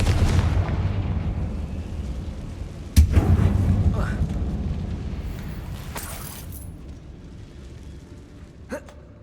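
A fiery Confringo blast spell goes off in the Hogwarts Legacy video game inside a tomb-like mine, a sharp loud burst about three seconds in that settles into a rumbling tail over steady game ambience, with a smaller crack near the end.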